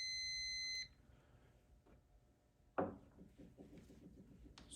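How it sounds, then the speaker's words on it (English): Fluke T+Pro electrical tester sounds a solid continuity tone, a steady high beep held for under a second, followed by faint clicks and handling knocks in a quiet room. "there's also a solid tone indicating that I have continuity"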